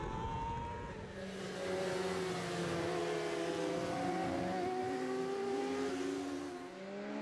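Kawasaki 400 racing motorcycles at Aberdare Park scream past in a close road-race battle, engines rising and falling in pitch through gear changes, loud and continuous with no talk.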